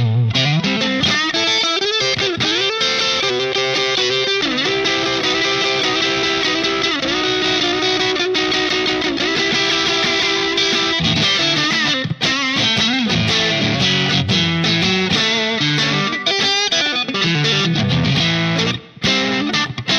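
Electric guitar played through a Line 6 POD HD500 modelling a Fender Deluxe Reverb amp with the gain turned up, a continuous distorted run of sustained notes and bends, loud and unbroken.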